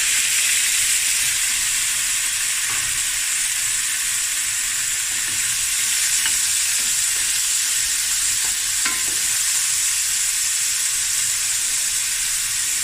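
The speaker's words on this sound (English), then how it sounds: "Now I'm going to add 500 grams of prawns." Prawns, 500 grams, frying in a pan after onions, spring onions and garlic, giving a loud, continuous sizzle with faint scrapes of stirring and no talk.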